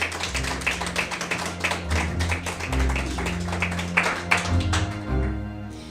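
A small audience claps to welcome a guest, with fairly light, uneven applause that carries on for several seconds under a low background hum.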